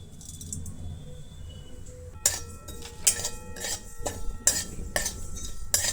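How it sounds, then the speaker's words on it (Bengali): Fennel, mustard and radhuni seeds stirred in a pan, a spoon clinking and scraping against the metal in a series of sharp, irregular strokes after a quieter start. "এইখানে দিয়েছি মৌরি, আর এ খুব অল্প সর্ষে আছে, আর আছে রাঁধুনি। তো এটা আমি একটু মিক্স করে নিলাম।"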